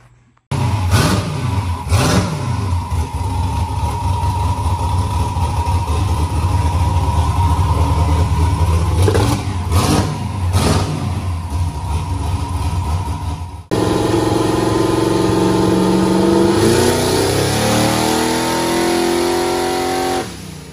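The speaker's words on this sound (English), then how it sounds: "Next thing you guys will see here is startup and on dyno." No-prep drag race car engine fires up on a dyno and revs hard: a loud, rough, sustained roar with repeated throttle blips, a sudden drop, then rising revs again, close up, with no talk.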